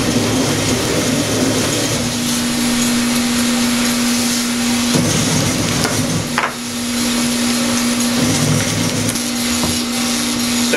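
A Cushion Pack CP428 cardboard shredder runs steadily as it processes a box, giving a loud, continuous mechanical roar with a constant hum and a few sharper cutting bursts, with no talk.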